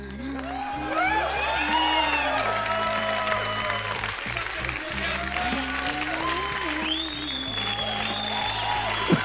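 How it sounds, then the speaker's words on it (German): A studio audience on the German game show Balls – für Geld mach ich alles! applauds for Dirk. Steady clapping fills the stretch with whoops and cheers, and a musical bed plays underneath. "großer Applaus für Dirk"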